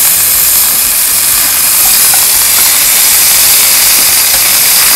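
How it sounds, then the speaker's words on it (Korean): Beef, pork and lamb sizzle in hot fat on a barbecue grill, a loud, steady, rain-like hiss that stays unbroken throughout, with a low rumble underneath. "이거 기름 튀기는 거. 이거 뭐 거의 소나기 내리는 소리 아닌가?"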